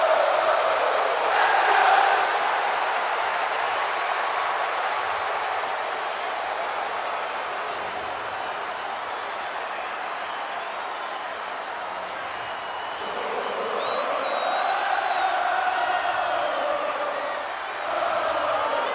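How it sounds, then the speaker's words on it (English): A huge arena crowd roars steadily for Sami Zayn at WrestleMania 39 in the WWE 2K24 wrestling game, a loud continuous wall of cheering that swells again near the end. "Listen to the energy in here for Sami Zayn"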